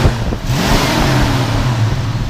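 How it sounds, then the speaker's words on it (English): A 1968 Mercury Cougar's V8 engine revs steadily up from idle, a loud, close, continuous rumble with a rising drone and no voices over it. "Go ahead and rev it up a little bit."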